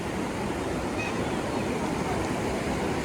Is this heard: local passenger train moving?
no